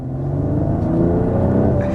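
A Mercedes car in sport mode accelerates: a steady engine rumble with rising revs and a whirring tone that climbs over about two seconds, close and fairly loud.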